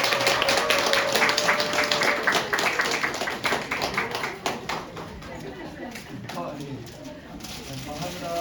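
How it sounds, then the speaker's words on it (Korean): An audience at a lecture by a National Assembly member applauds in a dense, sustained wash of clapping with crowd chatter mixed in, fairly loud and steady before thinning out toward the end. "뜨거운 박수로 환영해 주십시오."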